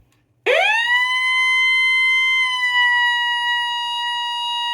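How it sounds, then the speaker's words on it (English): A weather radio sounds its 1050 Hz alert tone, which starts abruptly after a brief silence and then holds as a loud, steady, continuous pure tone with strong harmonics, alone with no talk. "it's basically a continuous siren until you hit the weather button and then just turn it off"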